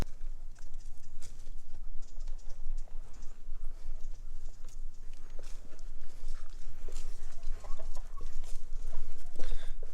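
Chickens cluck and squawk in scattered bursts around a farmyard, with rustling and movement noises in the background.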